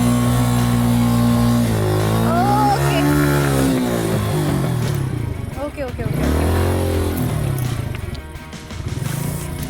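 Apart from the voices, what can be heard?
motorcycle riding off-road on a track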